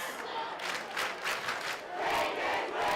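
Crowd noise at a varsity football game between the Rapids and the Monarchs: a loud, surging wash of shouting and booing from the stands rises and falls in waves for a few seconds, with no clear talk on top.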